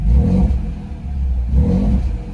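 A 2024 Ford Ranger's 2.7L engine revs twice through a DIY exhaust, two close, low rumbling pulls with a steady idle burble between them.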